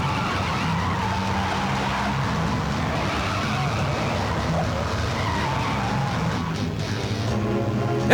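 Car racing in a chase scene from a South Indian horror film dubbed into Hindi: a continuous roar of engine and road noise with skidding tire texture, steady and fairly loud throughout, with no speech.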